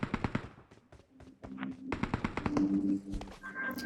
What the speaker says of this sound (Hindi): मेरे को इधर से मशीन गन चलने की आवाज़ आती है।